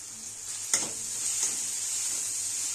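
Garlic and finely chopped coriander hit a hot frying pan, setting off a steady bright sizzle with a soft clatter as they drop in and a second small burst a moment later, close and moderately quiet, with no talking.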